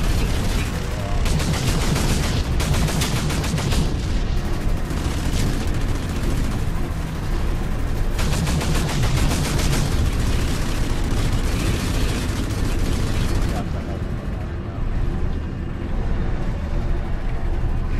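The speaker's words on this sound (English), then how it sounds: "We got a forge gunner hitting us from somewhere." Heavy forge gun blasts slam into players in DUST 514, a constant roaring barrage of booming impacts and rumbling explosions, loud and dense throughout before easing slightly toward the end.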